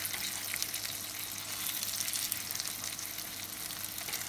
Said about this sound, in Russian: И продолжаем жарить еще пару минут, так чтобы подрумянились с той стороны.